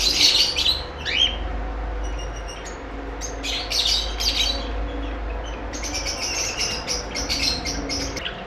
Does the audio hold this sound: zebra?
yes